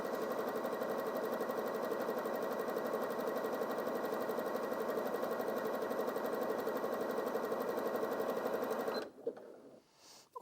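A Janome DKS100 sewing machine runs continuously on a narrow zigzag stitch, a steady, close mechanical whir with rapid needle rhythm that stops abruptly near the end.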